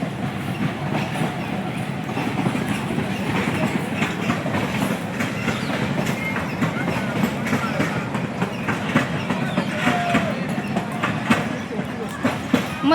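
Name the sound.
Vanrani toy train running in Sanjay Gandhi National Park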